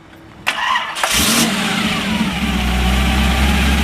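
A 1955 Chevrolet Bel Air with a gear drive cranks over briefly, catches and fires, then settles into a loud, deep, rumbling idle, close and alone without talk.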